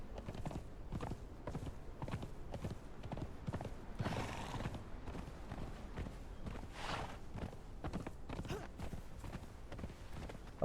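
A hardy horse in the video game Conan Exiles, with steady clip-clopping hooves moving along at a walk and a whinny rising partway through, all close and clear with no talking.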